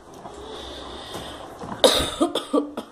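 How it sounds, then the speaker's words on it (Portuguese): A woman in a home kitchen coughs in a rough, close cluster of short bursts after a quiet stretch, several coughs in quick succession. "eu tô tossindo demais"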